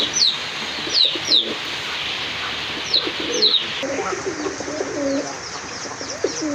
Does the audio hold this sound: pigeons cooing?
yes